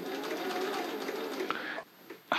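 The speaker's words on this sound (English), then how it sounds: "Can we get it to crash in sewing machine mode at all?" A sewing machine driven by a servo motor runs slowly, with a steady, close mechanical drone that stops abruptly near the end before a short burst resumes.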